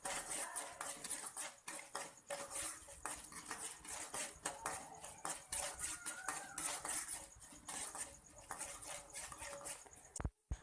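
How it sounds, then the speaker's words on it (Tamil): Urad dal and chana dal fry in a pan for coconut rice while a metal spoon stirs them, making steady, faint clinks and scrapes against the pan, followed by a sharp knock at the end. "உளுத்தம்பருப்பை சேர்த்துட்டு ரெண்டுமே சேர்ந்து நல்லா பொன்னிறமாகி வர்ற வரைக்கும் வறுத்து எடுத்துக்கலாம்."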